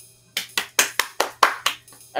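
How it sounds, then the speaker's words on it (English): A single person clapping a short round of applause, about eight sharp, evenly spaced claps, close and dry. "I want to give a round of applause."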